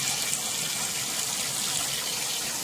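Water runs steadily from a tub tap while black dye is rinsed out of hair, a loud continuous hiss and splash close by with no talk.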